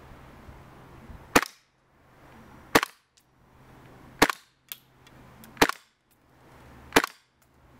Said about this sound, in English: So this is 5 shots with the suppressor on.